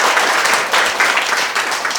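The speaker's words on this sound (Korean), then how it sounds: "김현근 이사님께 박수 한번 보내주시겠습니까?" An audience at a 13th-anniversary ceremony of a Busan federation gives a director a round of applause, a dense, steady burst of clapping that fills the short moment without voices.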